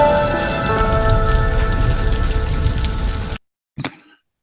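Rain pours down in a dense, steady hiss of drops hitting a surface, loud and continuous, then cuts off abruptly, followed by one brief crackling burst.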